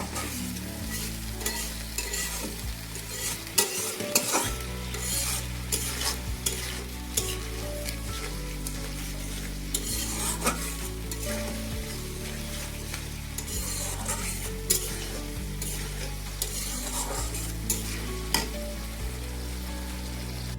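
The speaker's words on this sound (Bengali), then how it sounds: "এবার ভালো করে তেল ছেড়ে আসা পর্যন্ত মশলাটাকে আমরা কষাবো।" Spice masala fries in oil for hilsa curry, a dense continuous sizzle with repeated rhythmic scraping strokes of a spoon stirring in the pan, close and steady, with no voices.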